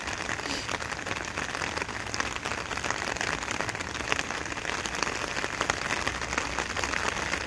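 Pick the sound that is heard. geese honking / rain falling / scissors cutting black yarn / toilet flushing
rain falling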